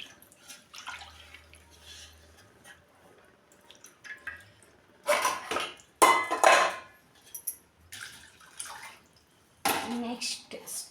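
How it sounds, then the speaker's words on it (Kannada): A cooking pot being washed with warm water in a home kitchen during festival cooking, giving intermittent splashing and clanking bursts, louder around the middle and end, with quiet gaps between. "ಈ ಬೋಗಾಣಿಗೆ ಹಾಕ್ಕೊಂಡು ಬೋಗಾಣಿ ಇದನ್ನು ತೊಳ್ಕೊಂಡು"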